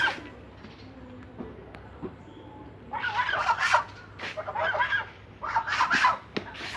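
A flock of domestic geese honks in loud overlapping bursts, with quieter calls at first and then dense clustered honking through the second half.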